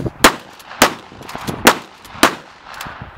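A Smith & Wesson 3000 12-gauge pump shotgun fires four quick, loud blasts at a steady rapid pace, with faint pump-action clacks between shots and no talk.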